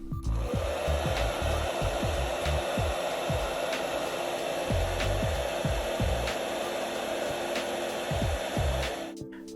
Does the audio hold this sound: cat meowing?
no